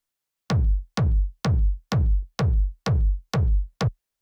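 Electronic tech house kick drum without EQ, eight evenly spaced deep booming thumps with short decaying tails, loud and alone.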